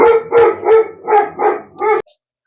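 Dogs barking close by: six loud barks in quick, fairly even succession, then sudden silence.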